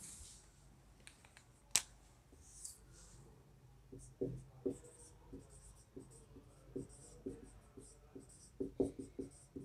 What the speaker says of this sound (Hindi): यहाँ मैं लिखता हूँ प्रेडिकेट